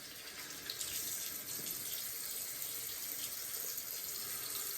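Tap water runs steadily into a sink as a face is rinsed in a shave shop setting, a continuous close hiss with faint splashing variations and no talking.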